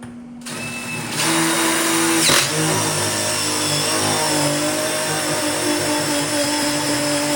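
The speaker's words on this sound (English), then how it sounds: "let me go ahead and drill through there." A power drill starts and whirs loudly and steadily up close while boring through wood, a continuous high-pitched motor drone with no talking.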